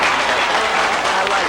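A television talk-show studio audience applauds, a brief, dense and continuous burst of clapping from the crowd.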